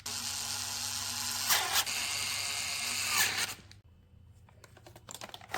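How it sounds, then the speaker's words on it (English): Four bolts being tightened on an EVOTECH navigation mount on a Ducati Multistrada V4, heard as a loud run of rapid clicking ratchet-like mechanism noise, then a pause and scattered lighter clicks. "And now is the time to install these 4 bolts."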